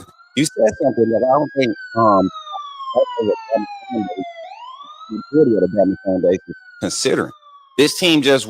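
A siren sound effect dropped into a podcast wails in a slow rising and falling sweep underneath steady conversation between men, clear but mixed behind their voices.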